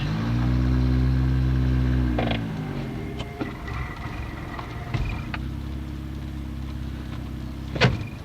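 A car driven through a residential street in Clinton, Iowa, engine droning low then dropping as a gear change is fumbled, with mechanical clunks and a sharp knock near the end; no talking.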